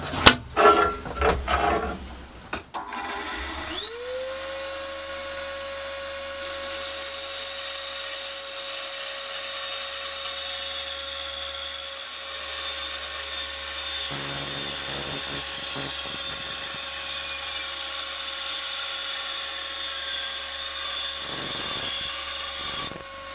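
A bandsaw spins up with a rising whine and runs steadily, cutting front plates for a cyclekart nose cone with faint intermittent cutting changes in a small shed, no talk.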